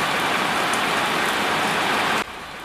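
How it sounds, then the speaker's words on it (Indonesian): Light afternoon drizzle falls on a main road, a steady dense hiss of rain close by that drops abruptly quieter near the end, with no voices. "Sore yang gerimis, tengah membasahi jalur utama Pasaman Medan."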